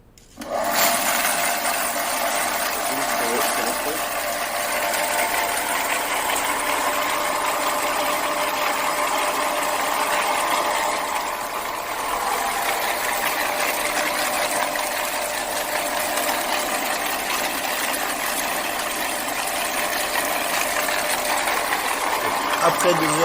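A Lyman Cyclone wet tumbler cleans brass cartridge cases, giving a constant loud mechanical drone with a rattling churn that runs steadily for over twenty seconds, with no voice.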